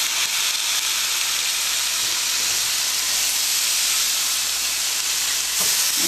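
Steak sizzling on a grill, a steady loud broadband hiss and crackle of frying that holds unbroken, close and alone with no talk.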